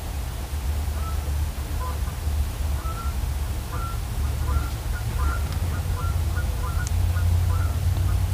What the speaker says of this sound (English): Did you hear that duck or whatever?